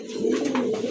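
Pigeons coo steadily and close, among a crested racer pair of sky-blue colouring offered at a fancier's pigeon sale, the soft throaty calls overlapping across a short stretch.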